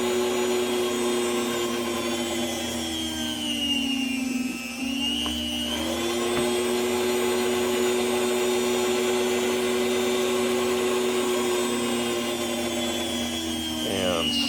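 A Weston food slicer runs steadily with a sustained motor whine and harmonic hum that holds through the whole stretch, briefly dipping in pitch as the blade bites into the food, close and fairly loud.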